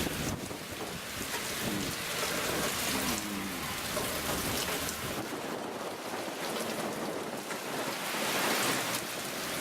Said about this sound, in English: Just getting kind of a downpour here